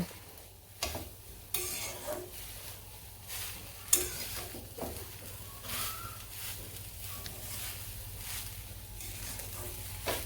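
Drumstick leaves (sajna shak) fry with salt in a pan, a continuous sizzle broken by repeated spatula stirs and clinks, with a crow cawing faintly in the distance.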